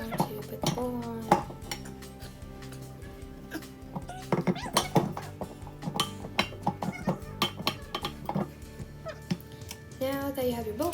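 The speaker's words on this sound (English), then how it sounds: "here's where I struggle for a while to put the bowl on" A mixing bowl is worked onto an electric mixer while making macaroons, giving a run of clattering knocks and clinks at close range over background tones and bits of voice.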